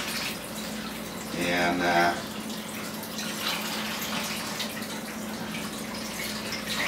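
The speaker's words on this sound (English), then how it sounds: "Wash these tomatoes down." Tap water running over tomatoes being washed in a sink, a steady splashing stream that briefly gets louder, with someone talking over it.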